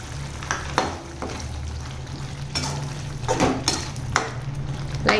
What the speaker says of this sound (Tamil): லைட்டாக கலந்து விட்டுக்கோங்க.